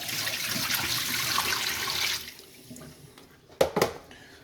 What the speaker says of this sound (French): On va jeter l'eau.